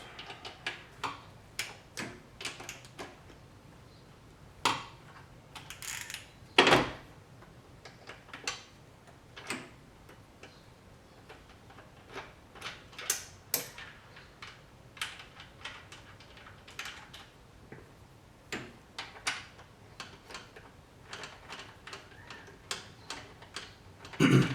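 Ratchet removing 13 mm aftermarket bolts on a Subaru WRX STI engine bay, a faint irregular run of quick clicking ticks in bursts with occasional louder clicks and no talk.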